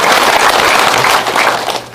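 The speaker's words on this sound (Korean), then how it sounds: "우리가 힘차게 격려의 박수 한번 보내주십시오." An audience at a lecture gathering in Gwangju gives encouraging applause, a loud, dense burst of clapping that fills the moment and tapers slightly at the end.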